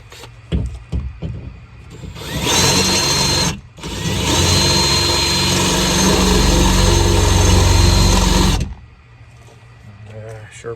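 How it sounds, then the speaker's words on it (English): A power drill bores out part of a canoe under restoration: a steady, loud whirring burst of several seconds with a brief pause, framed by short knocks and handling noise before and after. "I'll drill that out first"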